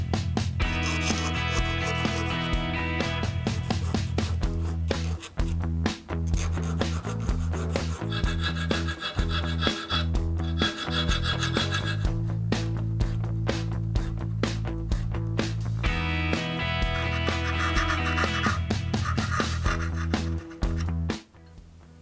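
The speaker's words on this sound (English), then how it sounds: "using some needle files, I'll break this outside edge and also file a little bit more in some areas" Needle files rasp against a wooden speargun line reel, a steady scraping that runs through most of the stretch under continuous background music.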